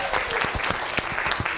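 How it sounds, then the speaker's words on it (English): Crowd applause at a business presentation in Australia, a short burst of dense, loud clapping that carries straight through with no voices over it. "Give Desmond a round of applause."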